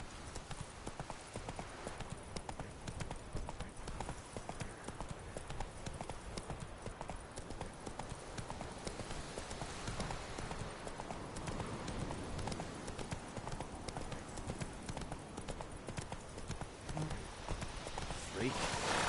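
Galloping horse hooves in the video game The Witcher 3, a steady fast clip-clop that runs continuously and fairly loud throughout, with the horse's gear and ambient game sound underneath.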